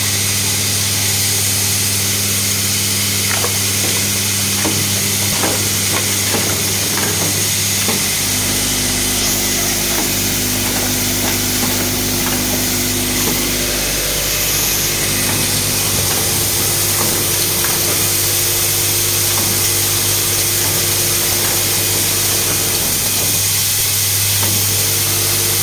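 A screw-pressing machine runs with a loud steady mechanical drone and hum, shifting in tone partway through as it strains and jams at the end of its stroke, with scattered clicks and rattles.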